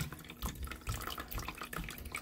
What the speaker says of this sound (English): So you're just going to let this all the water drain out.